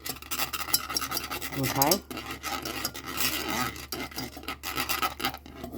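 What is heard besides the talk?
whisk scraping against a container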